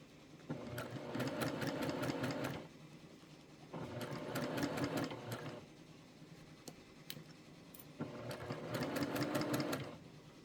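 A sewing machine stitches through quilt layers in three steady runs of rapid mechanical clatter, each lasting a couple of seconds with quiet pauses between, close and fairly soft.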